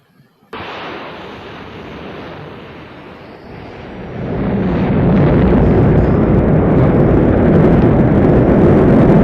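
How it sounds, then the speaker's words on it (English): A rocket launching, heard as a sudden loud roaring blast that starts after a brief silence and then swells into a sustained, heavier rumbling thunder, with no talking. "rocket."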